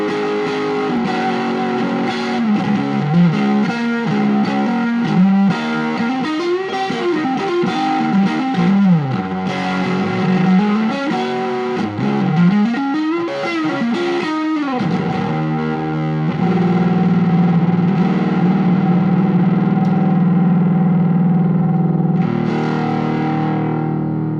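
An electric guitar through a Milkman Sound Pop Top Boost pedal, with a boosted, driven tone, plays sliding, bending melodic lines, then rings out on a sustained note, with a rich echoing sheen.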